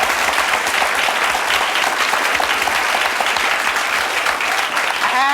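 Steady, sustained applause from a television talk-show studio audience, a dense wash of many hands clapping at even loudness throughout, with no voices standing out.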